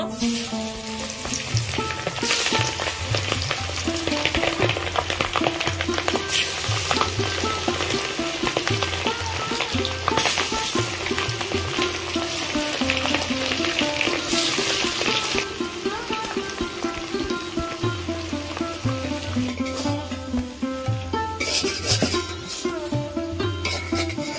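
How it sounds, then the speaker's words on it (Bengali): Fish frying in a pan while a festive Ranna Puja feast is cooked at home, a loud, steady sizzle running for the whole stretch beneath a rhythmic tune. "মাছগুলো ভেজে নেব।"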